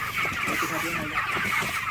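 Chickens cluck continuously in a crowded broiler house, a dense, steady chorus of many birds close by, with no talking over it.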